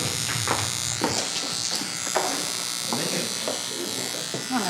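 Electric hair clippers buzzing steadily close by during a barbershop beard trim, with the pitch wavering slightly as the blade works through hair, under low talk.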